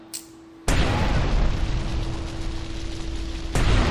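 An explosion in Grand Theft Auto Vice City goes off with a sudden loud, close boom, then a sustained roaring rumble for about three seconds before a second burst.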